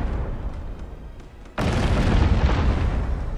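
A ship rams another vessel in the naval game Abandon Ship: a sudden heavy booming crash cuts in after a quieter stretch, followed by a loud, sustained rumbling roar of impact.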